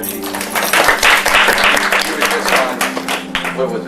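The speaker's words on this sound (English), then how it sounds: "if we could all get a round of applause" An audience at a live magic show applauds a volunteer from the crowd: a rolling wash of clapping runs under someone talking close by.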